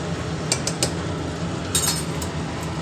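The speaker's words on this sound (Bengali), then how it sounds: "দিয়ে এটা নাড়িয়ে দিলাম" A spoon stirs ghee into fish-head moong dal, giving a few light metallic clinks against the pot in two short clusters over a steady low background, with no voices.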